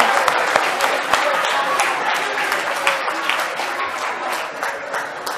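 An audience of students gives their classmates a round of applause, a brisk burst of many hands clapping that is dense at first and gradually thins out.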